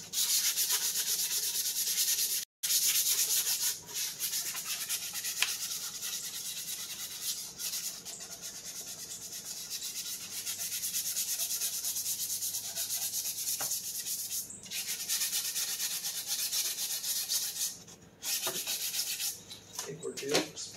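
Sandpaper rubbing steadily over a 3D-printed plastic part, a continuous close scratchy hiss with brief pauses between strokes.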